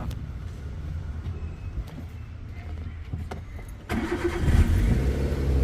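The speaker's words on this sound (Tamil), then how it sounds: "இருங்க, ஸ்டார்ட் பண்ணி காட்டிடுறேன்." A used Maruti Suzuki Wagon R with about 98,558 km on it, idling with a low, steady engine rumble before a sharp start lifts into a louder, fuller running hum, heard close.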